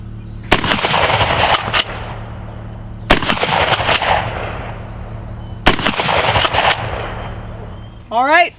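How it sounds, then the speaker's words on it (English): Keltec KSG shotgun firing slugs at an outdoor range about 50 yards downrange: three loud close blasts spaced a few seconds apart, each followed by quick mechanical clacks and a decaying echo. "we're going to be at about 50 yards and we're going to shoot some slugs downrange"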